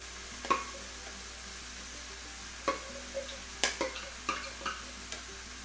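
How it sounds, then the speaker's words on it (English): Green beans and tofu sautéing in a pan: a soft sizzle runs throughout with several light clicks and stirring knocks from utensils spread across the clip, fairly faint and with no talking. "I'm just going to saute these green beans in with my tofu"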